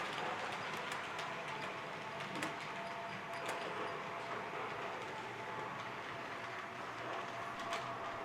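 A model locomotive creeps slowly through track turnouts, a faint continuous rattling rumble with scattered light clicks and clacks as the wheels cross the switch points, heard alone without talk.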